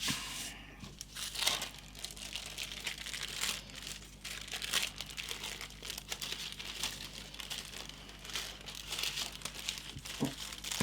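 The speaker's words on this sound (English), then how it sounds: "I'm just going to take the excess paint off the stencil with my bit of tissue paper." A bit of tissue paper crinkles and rustles continuously while wiping excess paint off a stencil, close and soft but steady.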